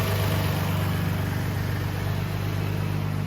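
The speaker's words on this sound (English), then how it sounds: "Honestly surprised this motor sounds so good." A stock Nissan 350Z with its VQ engine idles steadily in a garage, a low, even rumble with a smooth, continuous pulse and no revving, close and alone.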